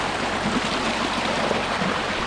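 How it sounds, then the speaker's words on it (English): A creek runs with water, producing a steady, broad rushing and gurgling that stays continuous and close, with no voices over it. "this is the first time we've ever seen this creek have water in it"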